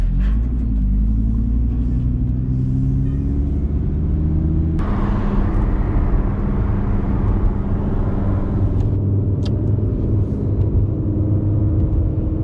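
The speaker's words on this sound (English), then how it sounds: "You can already hear that the baffles on the exhaust are open." A deep, steady engine rumble from a 2017 Audi R8 with Vorsteiner exhaust, baffles open, warming up, a throaty exhaust note, continuous and close, shifting slightly in tone partway through.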